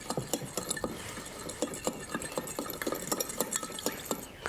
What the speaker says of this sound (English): I'm going to give that a stir just so I can dissolve the sugar